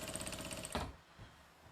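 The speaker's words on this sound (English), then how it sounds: "seems to be sewing okay" Sewing machine chain piecing quilt pieces, a short burst of rapid, rhythmic mechanical clatter that stops abruptly partway through, faint and close, no talking.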